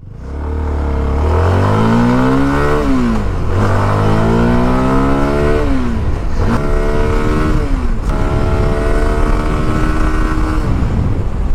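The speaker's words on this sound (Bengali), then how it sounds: "সিএফ মোটো SR250 এই বাইকটা এখন একটা টেস্ট করব, সেটা হচ্ছে 0 to 100।" A CF Moto SR250 motorcycle accelerates hard from a standstill toward 100, its engine revving up through several gears with clear rising pitch sweeps and brief dips at each shift, loud and close throughout.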